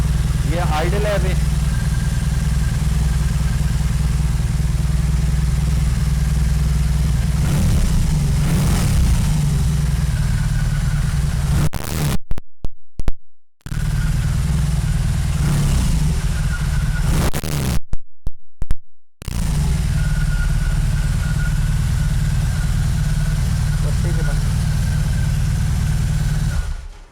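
A 2022 BMW R18 B Cruiser's boxer engine idles with a deep, even, throbbing rumble up close, held steady for a long stretch with a couple of brief dropouts, while someone talks over it.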